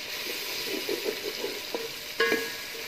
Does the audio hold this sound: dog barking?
no